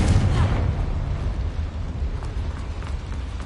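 A booming explosion from the Confringo blasting spell in a Hogwarts video game, set in a mine: a heavy rumbling blast at the start that fades into a low roiling tail.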